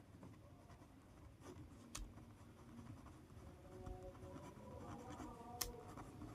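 A pen or pencil writes a formula by hand on paper during a maths lesson, giving faint, close scratching strokes and small taps against a quiet room background, with nobody talking.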